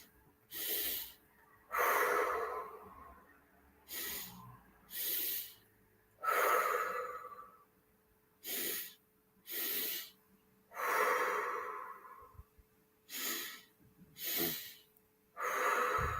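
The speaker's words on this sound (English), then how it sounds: "push your lips gently in the out breath and make sure you're breathing right into the belly" Slow, deep breathing exercise: about ten alternating breaths, sniffed in and exhaled through gently pushed lips, each breath a soft airy rush separated by quiet pauses, close and clear.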